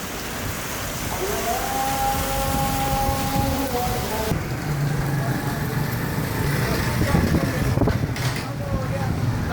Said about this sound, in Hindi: बड़ी तूफ़ानी बारिश है, बहुत ही कमाल की